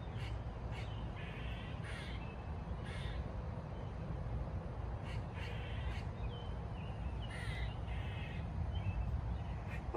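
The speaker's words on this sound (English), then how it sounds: "listen to the birds." Crows cawing outdoors in a park-like setting, several distant harsh calls repeating at intervals over a constant low rumble of background noise, no talk.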